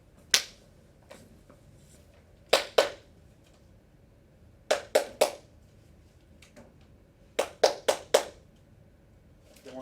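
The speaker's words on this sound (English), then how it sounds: "5 claps" Five sharp hand claps ring out in an irregular rhythm: a single clap, then pairs and a triplet, each crisp and close, with quiet room tone between.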